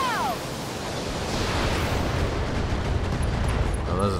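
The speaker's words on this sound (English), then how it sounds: "Oh, ammo explosion." A mech's stored ammunition explodes in the BattleTech strategy game: a broad, sustained roaring blast with rumbling debris, along with brief synthetic tones and chirps near the start and end.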